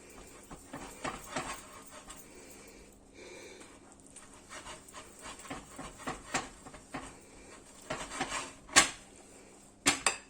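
A whisk beating fruit cake batter in a bowl, giving uneven clattering metal scrapes and taps against the bowl that build to louder knocks near the end, with no talk.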